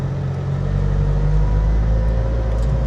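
A McLaren Senna sports car engine idles loudly and close in Monaco, a deep, steady rumble with a strong low drone and slight swells in level throughout.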